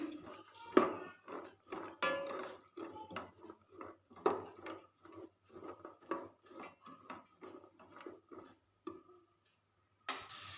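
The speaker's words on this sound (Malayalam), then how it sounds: "സവാള ഇട്ട് കൊടുത്തതിന് ശേഷം നന്നായി ഒന്ന് ഇളക്കി കൊടുക്കുക" Sliced onions are stirred in a pan for a coconut-based chicken curry, giving a close, steady run of spoon clinks and scrapes against the metal with no one speaking.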